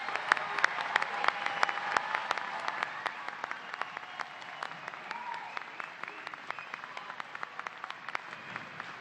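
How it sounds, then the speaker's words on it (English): An audience at a technical institute commencement ceremony applauds its graduates, a fairly quiet, distant spread of clapping with sharp individual claps standing out, holding steady before slowly thinning. "Please join me in recognizing these impressive individuals for their accomplishments by offering them a round of applause"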